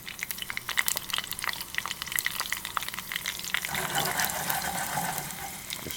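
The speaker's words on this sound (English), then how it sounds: "you want to get that garlic going to a beautiful golden brown" Garlic frying in oil in a pan, a steady close sizzle with clinks and scraping from stirring, growing denser and louder toward the end, no voices.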